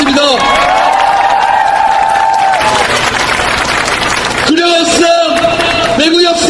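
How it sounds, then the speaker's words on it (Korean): A rally crowd at a farmers' and union march claps and cheers loudly. Sustained clapping mixes with shouts, and an amplified voice speaks over the crowd in stretches. "다시 한번 힘찬박수 부탁드리겠습니다."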